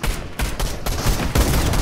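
Rapid shotgun blasts in a gun game match, several loud close booming shots in quick succession with brief gaps between them.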